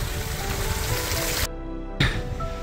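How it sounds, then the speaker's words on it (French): Rain starting in Tourtour, Provence, with big drops patters in a steady broadband hiss, briefly dropping out before resuming. "Voilà, il commence à pleuvoir. Des grosses gouttes."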